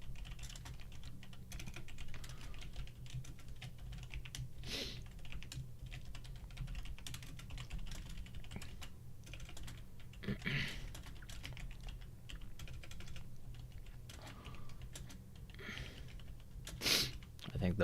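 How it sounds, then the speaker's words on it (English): Steady close typing on a computer keyboard while entering a stock options trading order, soft continuous key clicks with occasional sniffs and a quiet background hum. "But let me type in this closing order."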